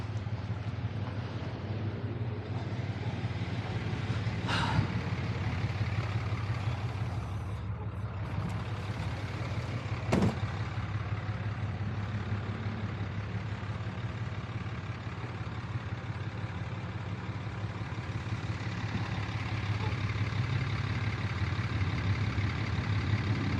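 A truck engine idles in a low, steady rumble while backing toward a 2 5/16 inch bumper-pull trailer during a repossession, broken by two short, sharp air-brake hisses partway through.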